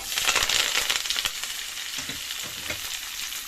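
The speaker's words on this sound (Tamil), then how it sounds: "இதில் வந்து வெங்காயம், கருவேப்பிலை, பச்சை மிளகா வச்சுருக்கேன். இதை வந்து இதில் போட்டுடலாம்." Onion, curry leaves and green chillies dropped into hot oil, a loud crackling burst of frying that settles into steady sizzling with a few scraping stirs, close up and with no talking.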